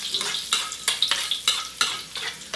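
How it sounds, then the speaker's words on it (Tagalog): Garlic, potatoes and carrots sautéing in hot oil for chicken kaldereta, with a spoon scraping the pan in regular strokes about twice a second over a steady close sizzle. "Sigisan natin yan."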